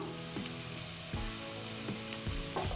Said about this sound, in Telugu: ఉల్లిపాయలు చక్కగా వేగిపోయినవి నెక్స్ట్ మనము ఒక టీ స్పూను పసుపు వేసుకుందాం